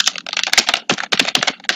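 Rapid typing on a computer keyboard, a close, dense run of clicking keystrokes with a short pause midway.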